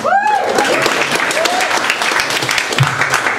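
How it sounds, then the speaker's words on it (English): A comedy club audience applauds, a steady dense round of clapping close by, with a short vocal whoop at the start and some faint voices beneath. "Everybody clap for yourselves."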